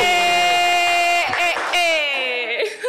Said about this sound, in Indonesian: kita harus kasih tepuk tangan dulu dong